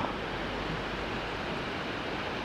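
The base of a waterfall in Jezin gives off a steady broadband rush of falling water, heard fairly close with no voices.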